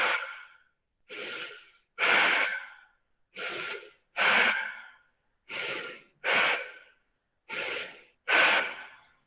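Deep, forceful yoga breaths through the nose and mouth during a micro-yoga session, nine distinct breathy bursts in a steady rhythm, each in-breath followed by a longer out-breath, close and clear with silence between and no talking.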